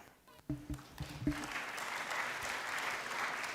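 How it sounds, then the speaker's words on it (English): After a few isolated claps, a conference audience at a national career event breaks into sustained applause, moderately distant and even, holding steady to the end. "Appreciate him better with a beautiful round of applause"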